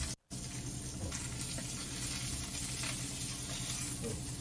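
Rainbow trout skin sears in a hot pan with a steady, dense sizzle that runs throughout after a brief dropout at the start, close and fairly loud with no voices.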